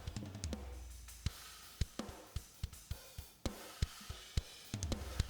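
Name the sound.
kick and snare drums with parallel compression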